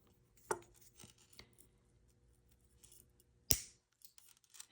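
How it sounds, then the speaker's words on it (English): A jewelry necklace chain link is snipped with cutters, giving two crisp metallic clicks, a small one early and a louder sharp snap later, close by in a quiet room. "So we're going to cut that link."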